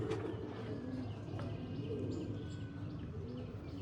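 Andhra pigeons coo softly in a loft, low murmuring calls with a few faint chirps scattered over a steady background hum; quiet and close, no speech.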